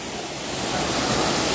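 Water pours like a waterfall into a blue swimming spot, heard as a steady, broad rushing roar that grows slightly louder, close by and with no voices.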